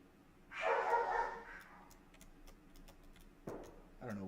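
Pet dogs barking somewhere in a house, a drawn-out bark followed by a couple of short, sharp barks, moderately loud and slightly distant.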